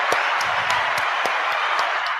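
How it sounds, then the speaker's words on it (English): A soundboard plays a canned burst of crowd applause, dense even clapping at steady loudness for about two seconds. "Giving you a clap on that"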